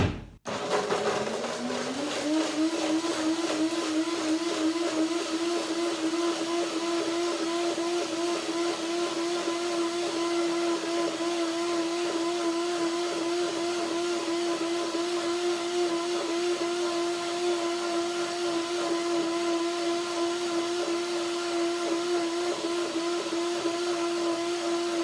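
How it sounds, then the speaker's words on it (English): A blender runs continuously, purring evenly as it purées cashews into a thick dill dressing, its motor starting abruptly and holding a steady loud whir for the whole stretch with no voices. "This is the first blending only."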